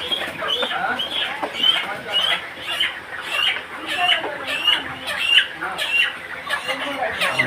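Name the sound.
chickens being caught for transport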